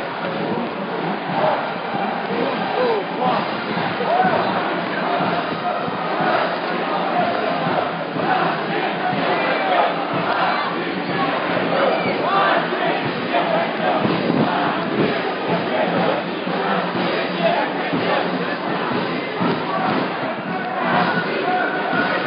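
A large crowd at the Victory March in Odessa produces a dense, steady murmur of many voices and footsteps, loud and close throughout with occasional thumps and shouts.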